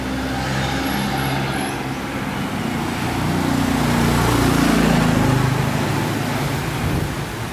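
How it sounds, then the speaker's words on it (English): Steady traffic on a narrow side street in Chiang Mai, Thailand, heard as a continuous broadband rumble of passing cars and motorbikes that swells slightly midway, fairly loud and close, with no talking. "a lot of traffic go up and down this little soy or street"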